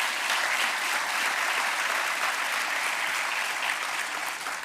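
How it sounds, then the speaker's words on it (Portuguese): An audience claps through a municipal swearing-in ceremony for new local authority officials, a dense and steady round of applause that holds at full strength the whole time and eases only slightly at the very end. "quem peço também uma salva de palmas."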